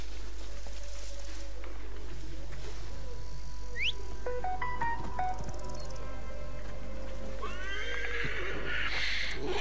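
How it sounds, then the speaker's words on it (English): A horse in the Assassin's Creed Origins video game whinnies with a sharp rising squeal, followed by clip-clopping hooves and a second louder neigh near the end over a steady low game hum. "go and call our horse"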